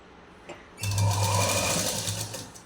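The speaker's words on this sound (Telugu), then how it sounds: "ఇలా స్లోగా వదులుకుంటూ కుట్టుకోండి సాగదీయద్దు" A sewing machine stitches a lined blouse, starting after a brief click and then running in a fast, even, close whir for nearly two seconds before easing slightly.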